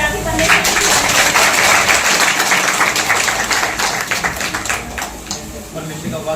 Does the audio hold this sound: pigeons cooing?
no